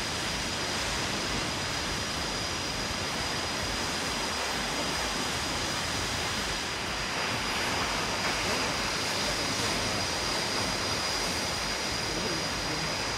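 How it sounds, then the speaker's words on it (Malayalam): Mac-Mac Falls in Mpumalanga roars as a broad, steady wash of falling water heard from a high viewpoint, even and moderately faint, with no one speaking. "വലിയ വെള്ളച്ചാട്ടമാണ്."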